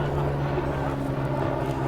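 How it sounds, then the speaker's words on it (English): A plane passes overhead near Crystal Airport, a steady low droning hum holding at moderate level for the whole stretch, with a faint background wash and no talk. "got a plane flying over, Kelly."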